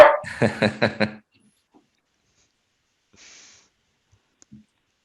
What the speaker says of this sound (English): Someone's got a dog barking.